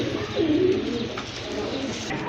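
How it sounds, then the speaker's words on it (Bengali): Pigeons kept for sale, a pair with a squab nearby, give a soft low cooing that rises and dips briefly, close and moderately loud over a steady background murmur. "একটা কবুতর দেখতে পাচ্ছেন একটা বাচ্চা সহ"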